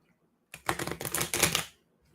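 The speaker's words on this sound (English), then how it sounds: "I'm practicing my raffle shuffle" Playing cards are riffle shuffled in a dense, rapid burst of flicking clicks lasting just over a second, close up in an otherwise quiet room.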